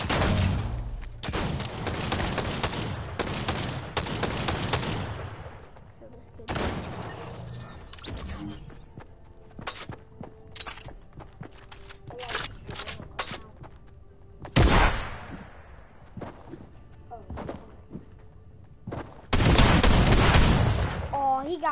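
Loud, echoing shotgun blasts from a first-person shooter game, fired in irregular bursts with several heavy booming shots and quieter gaps between them, over a continuous game soundscape.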